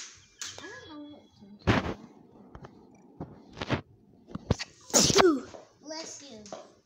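A child sneezes loudly once during a chat about an Among Us game, with sharp bursts of other nearby voices and noises around it.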